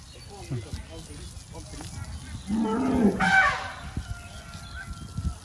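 An elephant trumpets and rumbles in cool-season surroundings, a mid-level call rising and falling for about a second amid faint outdoor background noise.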